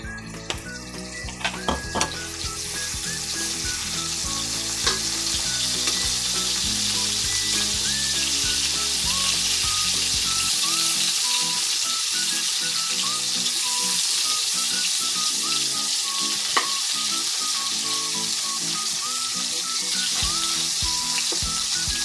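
Hotdogs frying in cooking oil in a pan, a steady loud sizzle that runs throughout, with a few clinks of a utensil against the pan near the start.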